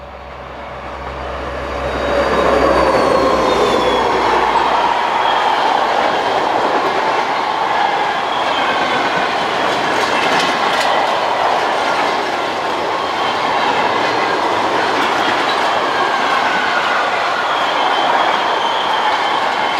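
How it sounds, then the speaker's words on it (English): Two BB 67400 diesel locomotives haul a train of new rails past at close range, a loud steady rumble with wheel clatter and some squeal building after a quiet start and holding throughout. "Following along behind is this pair of BB 67400 diesels on a trainload of new rails."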